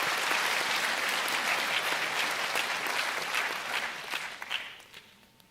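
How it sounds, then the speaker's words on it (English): Dense applause from the audience at a university graduation ceremony, steady and full for several seconds before tapering off into scattered claps near the end. "Can we please give him a round of applause for that?"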